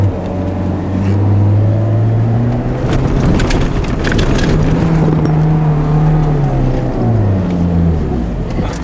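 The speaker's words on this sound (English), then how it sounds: "The sound of the truck." Suzuki off-road vehicle engine revving hard for traction, a loud steady drone rising and falling in pitch across the clip, with rough rattling and bumping noise over it.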